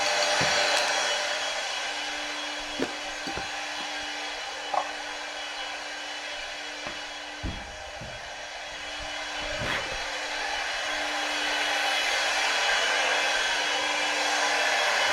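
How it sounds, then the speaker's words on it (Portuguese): A CNC router spindle running at 18,000 RPM while roughing a 3D carving in wood makes a constant high whine and hiss, with a sustained lower tone and occasional brief knocks. "eu prefiro fazer esse desbaste usando a CNC"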